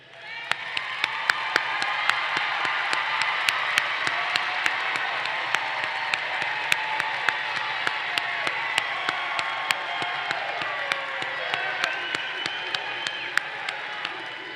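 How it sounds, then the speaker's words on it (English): Graduates at a university fall commencement applauding their families and friends: a large crowd clapping continuously, with scattered cheers, whoops and sharp individual claps over a broad, steady wash of sound. "I'm asking the class to stand up and applaud them"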